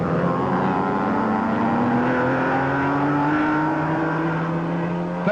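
Racing cars at the 1961 Le Mans 24-hour race, including a 3-litre Healey and a 750 Lotus, pull away with a loud, steady engine drone whose pitch rises gradually as they accelerate.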